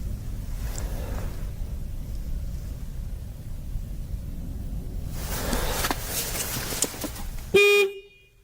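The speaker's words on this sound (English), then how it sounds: "That was definitely the horn." At a campsite, a quiet hissing background with some scattered rustling gives way near the end to a single loud, short blast from a van's horn before it cuts off.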